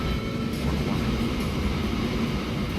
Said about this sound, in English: this train should be able to go back and forwards and pick everything up we need to